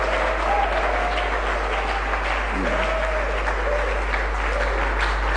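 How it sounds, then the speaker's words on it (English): A large audience gives a sustained round of applause for regional ministers at a Ghanaian national economic briefing, steady dense clapping with a low constant hum and faint voices beneath. "Let's give them a big round of applause."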